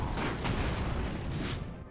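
Dense, rumbling explosions boom back to back during an airship boarding battle in the strategy game Airships: Conquer the Skies, loud and continuous for the whole stretch.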